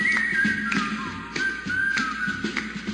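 A bright, lilting whistled melody carries a cheerful cigarette advertising jingle tune over a soft background, the notes gliding and sustained through the whole stretch.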